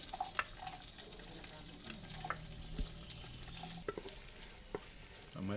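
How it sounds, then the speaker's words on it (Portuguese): Onion and bell pepper sizzle in hot oil for chicken moqueca, with occasional stirring scrapes and clinks over the steady crackle, close up. "Colocamos para fritar primeiro a cebola e o pimentão."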